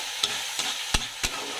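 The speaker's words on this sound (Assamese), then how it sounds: "এইখিনি ভাজি লওঁ।" Spices fry in hot oil with cumin powder and ginger-garlic paste, giving a steady close sizzle punctuated by four distinct scraping stirs of a spoon against the pan.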